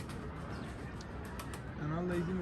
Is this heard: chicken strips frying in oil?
no